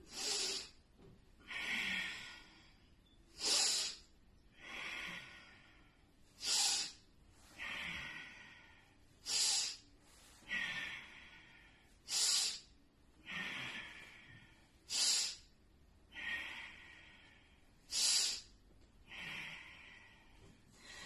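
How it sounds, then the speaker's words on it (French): Powerful pranic breathing exercise, forceful rhythmic nasal breaths, sharp snort-like exhales alternating with hissing inhales, repeating steadily and close, about a dozen cycles. "La respiration est puissante, elle soutient l'effort."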